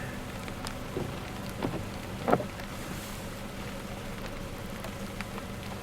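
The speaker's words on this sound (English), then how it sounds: "It's raining, would you guess?" Steady light rain in Latvia pattering on a surface, with a few sharper drips and taps standing out over a constant soft wash.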